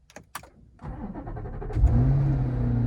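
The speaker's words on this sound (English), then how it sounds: "To start the car, I put the foot on the brake and we push this button here." A few clicks, then a C8 Corvette engine cranks and fires by push button, roaring up before settling into a loud, steady idle close by.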